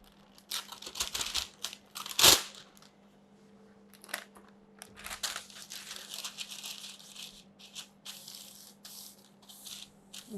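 Parchment paper crinkles and rustles in short bursts as it lines a baking tray for cut-out butter cookies, with one loud crackle near the start, then scattered softer handling sounds over a steady low hum.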